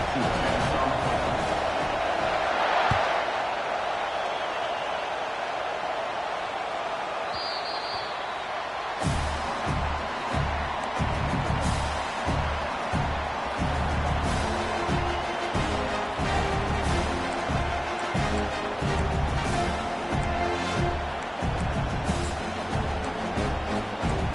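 Stadium crowd noise from an NCAA college football video game featuring Oregon, a steady roaring murmur with rhythmic thumping swells, running continuously under commentary-style talk.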